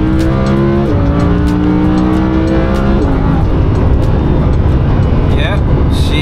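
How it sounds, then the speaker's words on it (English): A Lamborghini Huracan in Corsa mode accelerates hard to third gear, its engine screaming loud and close with two sharp upshifts, rising pitch between them, and a voice speaking over the roar near the end. "I'm gonna go Corsa mode, and we wanna hit third gear."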